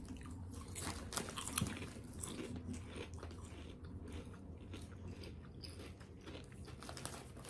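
Close, crisp crunching of cheesy bread flavored chips being chewed, with dense irregular crackles and bites throughout and no talking.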